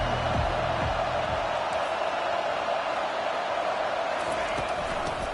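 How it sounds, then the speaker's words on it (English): A stadium crowd at an NCAA college football game roars in a steady, loud wash of cheering that holds without a break. "This crowd bringing an ear-splitting welcome to their visitors."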